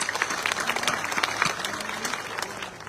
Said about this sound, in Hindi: हाथ ताली बजाना को सब स्वागत करो